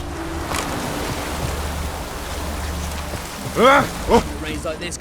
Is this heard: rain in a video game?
yes